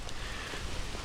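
Rain falls steadily during mulching outdoors, a soft dense hiss of drops with no other distinct sounds, close and continuous for about a second.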